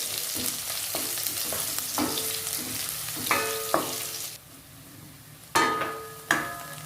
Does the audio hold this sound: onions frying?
yes